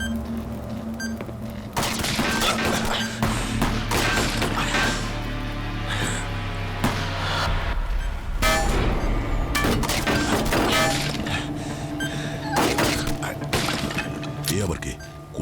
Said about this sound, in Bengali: কোথা থেকে গুলি চালাচ্ছে?